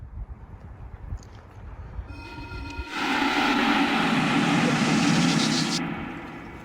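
Wind rising in a misty Connecticut cemetery, a broad rushing roar that swells in after a quiet stretch and holds steady for several seconds before easing off, close and loud over faint background noise.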